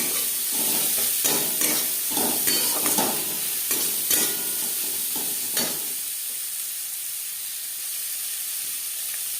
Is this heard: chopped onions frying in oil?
yes